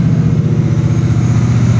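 A car engine idling after an engine swap, a steady loud low rumble with an even pulsing throb, close up and without talk.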